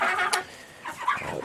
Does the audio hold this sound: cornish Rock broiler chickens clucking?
yes